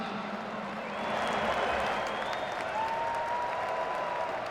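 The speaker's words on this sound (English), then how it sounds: "A big round of applause for our sponsors tonight." Audience applause at a college football bowl game between Texas and Colorado, steady massed clapping with some crowd noise, moderately loud and continuous throughout, with a faint tone drifting underneath.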